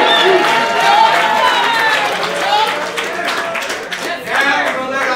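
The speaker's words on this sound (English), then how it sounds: "Everybody. Make some noise for Jae Ryon on the right." A crowd at a rap battle tournament cheers and applauds for Jae Ryon, a steady wash of clapping and shouting that carries on for several seconds.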